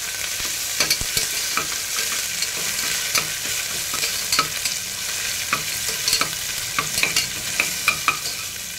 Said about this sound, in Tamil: நல்லா பச்சை வாசனை போகிற மட்டும் வதக்கிட்டு